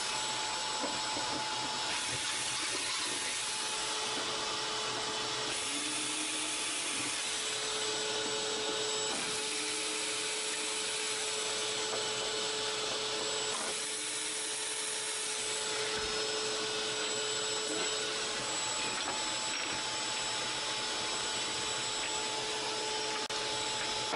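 A Zenbot 1624 CNC router cuts with an end mill, giving a steady, loud whine with sustained tones that pulse every few seconds as the tool moves. The sound continues throughout.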